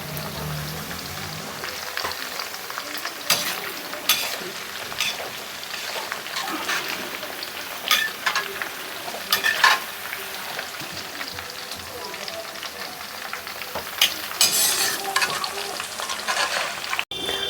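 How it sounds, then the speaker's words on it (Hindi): Onions frying in a pan for a kabuli pulao, a continuous close sizzle with bursts of louder crackle and stirring scrapes, no speech. "इसी तरह से आपको प्याज फ्राई करके निकाल लेना है।"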